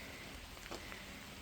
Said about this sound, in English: Staying warm and dry out of the rain.